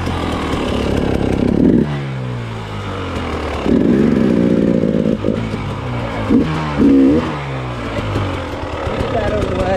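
An enduro motorcycle ridden off-road over rocky ground, its engine revving up and down in loud, close surges with clattering in between, and a voice occasionally heard over the engine noise.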